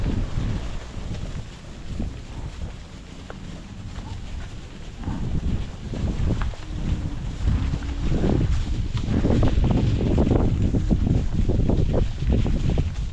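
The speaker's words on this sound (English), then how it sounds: "It's pretty windy at the moment, pretty hot and windy." Steady gusty wind on a hot day at a farm buffets the microphone with a deep rumbling roar that swells and eases throughout, with no one speaking.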